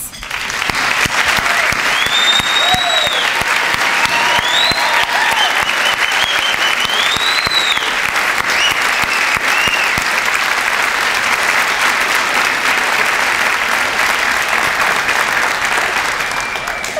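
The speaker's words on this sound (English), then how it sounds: "please join me in a round of applause" Loud, sustained applause from a large crowd at an employee recognition awards ceremony, steady clapping that fills the whole stretch with a few cheers and whistles mixed in.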